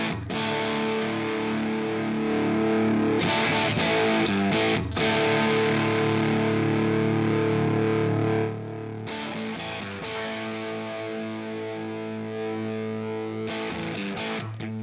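Electric guitar through a Quad Cortex amp model set for fuzzy, muddy distortion, strummed chords sustaining in a thick saturated wall, loud and close, with brief pauses between strums and no talking.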